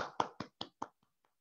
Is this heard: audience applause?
yes